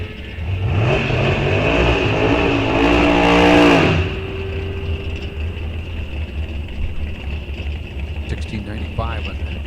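A drag car roars off the line at a test and tune night at Rock Falls Raceway, the engine loudly revving and rising for a few seconds, then fading away down the track while an announcer talks over the PA.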